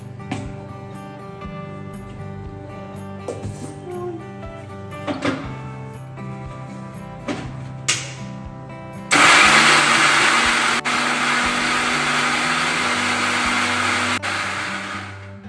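An electric mixer grinder blends onion and salt into a masala paste. After some quiet clicks and bumps, the motor roars on loud and steady for about six seconds, then winds down.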